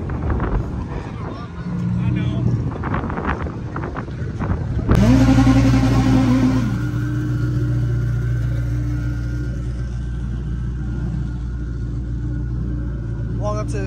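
Honda CRX with a nitrous B-series engine and EF with a K-series engine at a drag track event, a loud engine roar surging partway through over steady rumble and wind, with people talking nearby.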